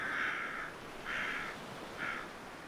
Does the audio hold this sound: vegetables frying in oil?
no